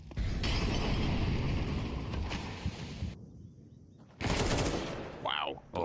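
SMG fire rattles in rapid continuous bursts during a Counter-Strike 2 match, loud and sustained with brief pauses and a sharp burst near the end, while commentators talk.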